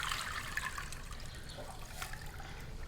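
Running water splashes and trickles in a steady, close stream as shrimp are washed under it, with a few soft knocks.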